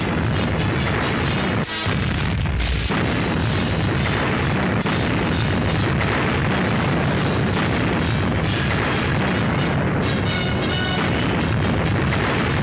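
Wartime newsreel battle in Africa, with bombs and artillery bursting in a dense, continuous barrage of booms and crackling blasts, loud and unbroken throughout.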